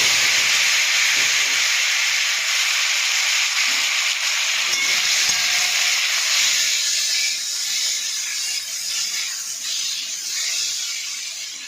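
Taro and potato hit hot oil seasoned with black cumin, raising a loud, steady sizzling hiss that carries on throughout and eases only slightly toward the end.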